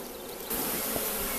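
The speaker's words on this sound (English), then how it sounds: "Well, the bees have arrived." Honeybees newly settled into a fresh hive, a dense steady buzzing that swells slightly louder partway through, close and continuous with no talk.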